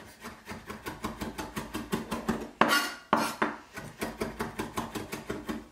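Knife mincing fresh dill on a board, a fast, even run of sharp chops about four per second, close and distinct, with a brief scrape of gathered herbs midway.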